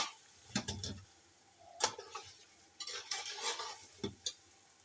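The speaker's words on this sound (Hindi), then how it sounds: "इसमें लहसुन और अदरक का पेस्ट डाल देते हैं 1 चम्मच। और इसको थोड़ा सा वो करके फ्राई।" Garlic and ginger paste frying in a pot for chicken pulao, a spoon scraping and knocking against the pot in sharp, scattered clacks over a faint sizzle.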